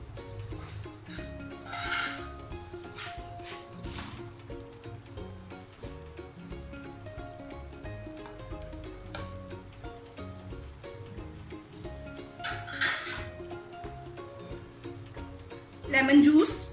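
Fried chicken pieces stirred into sizzling roasted masala for a dhaba-style lime chicken, a steady frying crackle with scraping spoon strokes throughout, louder clatter near the end.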